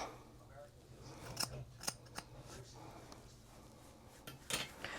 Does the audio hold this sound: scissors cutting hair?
yes